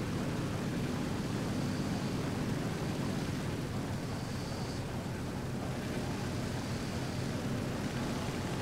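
Propeller aircraft engine droning in War Thunder during a climb toward a bomber, a steady, dense roar holding at constant loudness throughout, close and unbroken, no talk.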